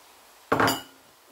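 Nuts are tipped into a pan of carrot halwa cooked with eggs, making a single close, sharp rattling clatter that lasts under half a second.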